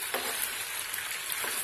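Chopped tomato hits frying macaroni with masala, giving a close, continuous crackling sizzle with a brief stirring scrape.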